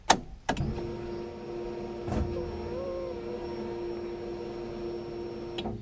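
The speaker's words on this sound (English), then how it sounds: "Alright, fuel pump's primed." The electric fuel pump on a 1970 Plymouth GTX with a FiTech Six Barrel fuel injection system primes with a steady, faint whirring hum after a couple of sharp clicks at the start. Otherwise the car is quiet.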